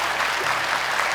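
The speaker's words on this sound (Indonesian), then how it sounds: "Tepuk tangan untuk adik-adik kita." Audience applause at an Indonesian televised Quran memorization competition, a steady dense wash of clapping from a studio crowd, brief and continuous.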